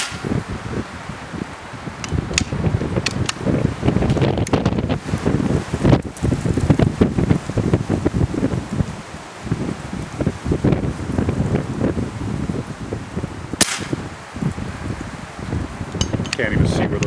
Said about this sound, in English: The wind is really kicking up.